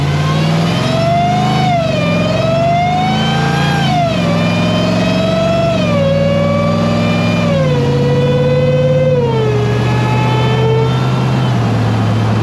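A supercharged Ram TRX truck engine revs loudly and steadily through repeated rising-and-falling pulls, each rev climbing and easing back in a smooth cycle, close and alone with no talking.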